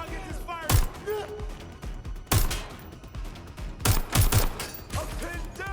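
Enemy gunfire in a Watch Dogs Legion firefight, with repeated loud bursts of automatic shots at close range and game effects sounding between the volleys.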